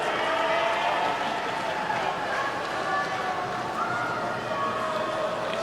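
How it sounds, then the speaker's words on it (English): In an indoor pool hall at a national short course swimming championship, a relay team is greeted by a steady, distant wash of crowd clapping and cheering, heard alongside a reverberant public-address voice. "Give them a big round of applause, ladies and gentlemen"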